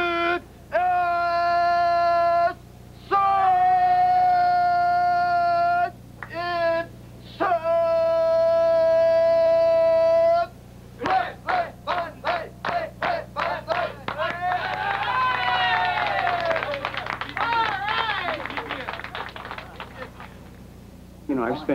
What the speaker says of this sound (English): The party ends with the Bandai cheer.